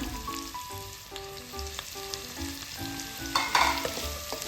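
Sliced onions, three medium ones, and green chillies frying in oil in a pan, a steady close sizzle broken by repeated stirring scrapes and a brief louder clatter near the end, with no talk.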